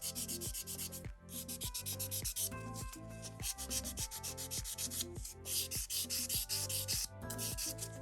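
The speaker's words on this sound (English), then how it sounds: "I'm just going to use the buffing side and just buff the shine off the entire nail" A nail buffer rubs rapidly back and forth across a gel manicure nail to buff off the shine, making quiet, close, rhythmic scratchy strokes in a steady pattern.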